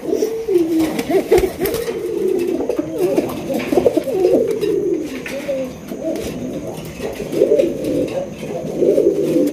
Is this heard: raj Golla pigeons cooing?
yes